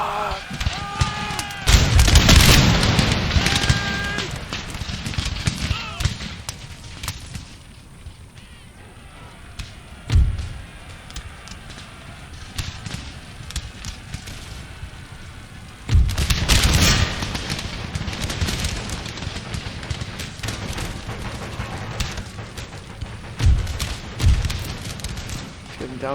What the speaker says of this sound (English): First rank, fire! Second rank, fire!